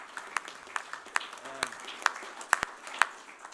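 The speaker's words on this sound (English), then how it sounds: "So let's give them a round of applause too." Scattered hand claps break out from a conference audience honouring the organisers, a thin, uneven patter of individual claps rather than full applause.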